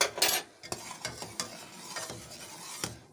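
A spoon stirs and scrapes around inside a pot with soft, irregular clinks over a faint sizzling background, close up, with no talking.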